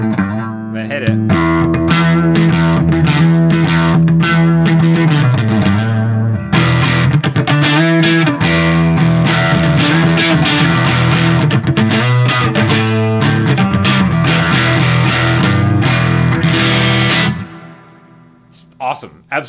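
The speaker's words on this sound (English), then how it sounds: "when I hit the boost, so it's really almost kind of like a built-in distortion in a lot of ways" An Ernie Ball Majesty electric guitar with its boost engaged, playing loud, thick distorted chords and riffs in sustained bursts, then cutting off near the end.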